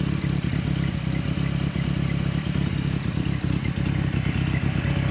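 A 1994 Dodge Ram truck engine with a suspect carburetor and taped spark plug wires runs steadily at idle, a close, continuous mechanical rumble with light clattering ticks and no talk.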